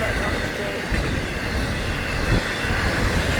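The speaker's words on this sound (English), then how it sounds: "Big long 105, woo! Big long intermodal." Long intermodal freight train passing close by, a loud, continuous roar and rumble of rolling cars with steady wheel noise and faint squeal, unbroken for the whole stretch.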